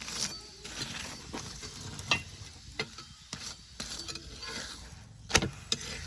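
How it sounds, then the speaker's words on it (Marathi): Oil sizzles softly under a puran poli on a hot pan, a quiet crackling hiss with scattered scrapes and small clicks from a spatula. "पोळीला तेल लावून घेऊ दोन्ही बाजूनी"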